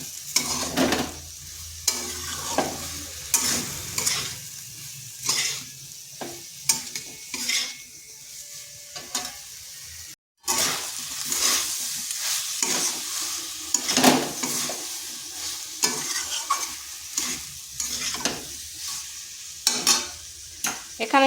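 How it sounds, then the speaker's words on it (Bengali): Kohlrabi cooks down with spices and a splash of water in a pan, for a vegetarian dish. A spatula scrapes and stirs in repeated close, rasping bursts over a soft background sizzle, with one short silent break midway. "এই মশলার সাথে এটাকে একটু সময় ধরে কিন্তু কষতে হবে।"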